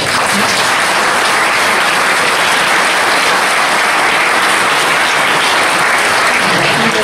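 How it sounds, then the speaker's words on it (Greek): Dense, sustained applause from a large audience at a presentation of regional council candidates in Florina, steady and loud throughout with no pauses. "σας καλώ να τους επιβραβεύσετε με ένα θερμό χειροκρότημα"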